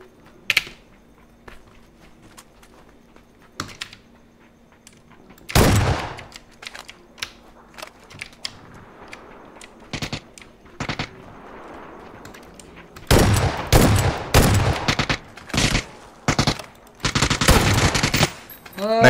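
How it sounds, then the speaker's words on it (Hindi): Gunfire in PUBG Battlegrounds, including shotgun blasts, comes as a single early shot, a heavy blast midway, then a dense cluster of rapid, loud bursts toward the end. "ऊपर से मार रहा था शॉटगन का पहली बार फायदा हुआ है।"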